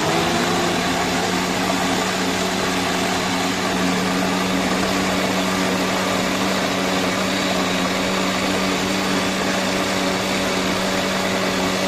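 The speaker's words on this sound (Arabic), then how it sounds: "هحط الخليط بتاعي على الخلاط، اغطي وهنضرب" An electric blender whirs continuously while mixing Syrian garlic sauce (toum), a loud, steady motor drone with a constant hum that runs throughout without speech.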